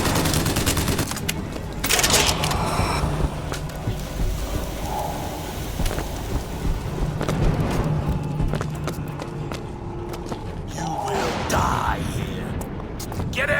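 Bursts of gunfire from a Bioshock Infinite firefight run dense and steady throughout, mixed with clattering action sounds and shouted enemy voices.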